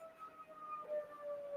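An ambulance siren wails faintly in the distance outside, a thin wavering tone rising and falling continuously against quiet background noise.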